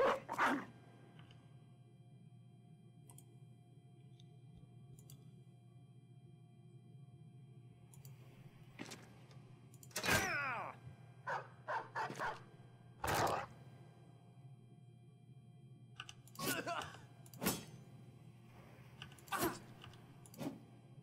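Dog barking and scuffling during a fight in the Battle Brothers game, several sharp barks and yelps arriving in bursts over a steady low hum, moderately loud with no talk.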